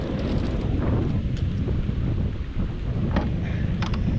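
Wind buffeting the microphone on a small fishing boat on the water during fall, a continuous low rumbling roar with gusty fluctuations and faint splashes.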